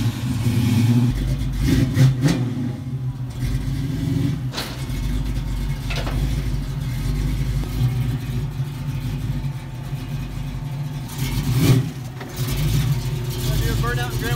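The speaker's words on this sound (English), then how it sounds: "Burnout in Grandma's driveway?" A car engine revving in a driveway during a burnout, a low rumbling drone with rising surges and occasional sharp bursts, while voices talk over it.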